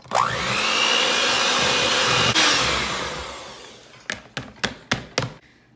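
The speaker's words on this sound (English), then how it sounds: "I'm gonna mix it with the mixer so that way it really gets incorporated well." An electric hand mixer beats pumpkin bar batter, a loud steady whir that runs for a couple of seconds and then winds down, followed by five sharp taps as the beaters are knocked against the bowl.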